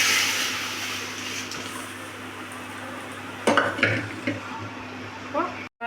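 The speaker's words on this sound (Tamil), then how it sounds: "ரசத்தை நம்ம இதில் ஊற்றிடலாங்க." Rasam sizzles steadily in a hot pan with green chillies, then a pour and a spoon stirring scrape against the metal near the end, close and without speech.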